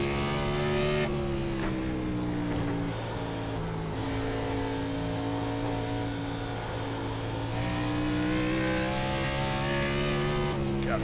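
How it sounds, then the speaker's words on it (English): A NASCAR Cup car howls around the Nashville Fairgrounds oval, its loud V8 holding a steady roaring drone with brief dips and swells in pitch as it lifts and gets back on the throttle, close and continuous. "God, this cup car is loud."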